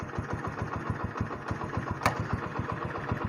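A motorbike engine idles steadily nearby on a poultry farm in Pakistan, with a fast, even low putter running throughout and one brief sharp clatter partway through.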